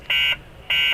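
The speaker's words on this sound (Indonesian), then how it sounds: "Apaan tuh? Alarm" A hospital alarm in a horror video game sounds as two loud, steady electronic buzzer tones, each lasting about a quarter second with a short gap between them.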